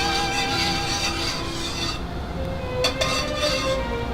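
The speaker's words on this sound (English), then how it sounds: "I'm just going to whisk it in." Steady scraping and stirring in a pot, a whisk rattling against metal with a few light clinks as sauce thickens, close and continuous.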